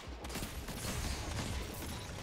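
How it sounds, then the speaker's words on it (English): Repeated loud shots from the Malfeasance hand cannon in a Destiny 2 PvP match, packed closely together over a steady wash of game noise, with no talking. "we hit him with the headshots right there"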